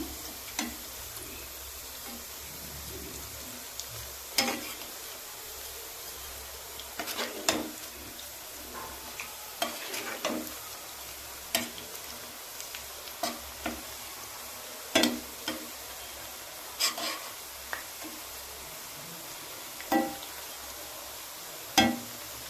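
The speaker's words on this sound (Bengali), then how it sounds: "একদম লাল লাল করে আমি ভেজে নেব দেখুন আরও এক পিঠে আমি ভালো করে উল্টিয়ে দিলাম" Mushroom pakora frying in oil, a faint steady sizzle with scattered sharp ticks and scraping taps from turning the fritters in the pan.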